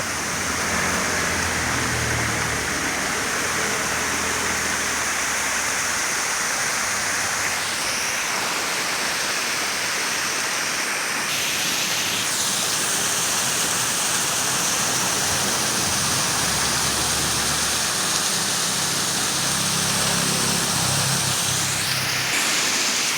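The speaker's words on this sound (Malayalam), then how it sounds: "ഇത്തരം ഒരു വെള്ളച്ചാട്ടം കേട്ടോ മലയുടെ മുകളിൽ നിന്ന് വരുന്ന" A steady, full roar of a mountain waterfall rushes on without a break, loud and close, with a faint low rumble underneath.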